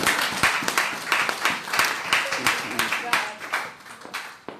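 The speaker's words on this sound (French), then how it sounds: "Est-ce qu'on peut donner une offrande d'acclamation à Dieu?" Rhythmic group clapping at a church service, sharp beats roughly every quarter second, loud and close, with voices faintly underneath.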